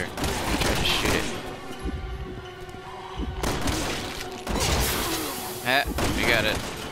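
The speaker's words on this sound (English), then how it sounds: "He has a fire extinguisher. I'm gonna try to shoot it." Gunfire and an exploding fire extinguisher in the Resident Evil 6 video game, a rapid burst of shots followed by a heavy thumping blast amid game music and effects, with someone talking over it.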